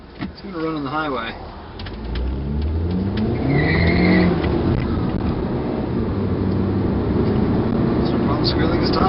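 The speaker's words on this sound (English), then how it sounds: "Squealing his tires." Tires on a 2006 Volkswagen Passat squeal in a brief high whine over a revving engine, with someone talking near the start.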